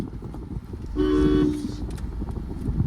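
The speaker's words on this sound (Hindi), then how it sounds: "लॉन्ग हॉर्न प्रेस कर देना" A single long car horn blast from a Toyota Fortuner sounds for about half a second over steady engine and road rumble.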